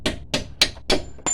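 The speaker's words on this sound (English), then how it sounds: "you should be able to get a hammer" Five sharp hammer blows strike a bolt in the front hub of a 2009 Renault Megane, evenly spaced metallic knocks that are close and loud, with no talking.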